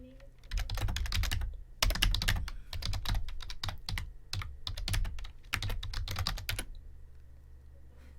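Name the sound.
typing on a computer keyboard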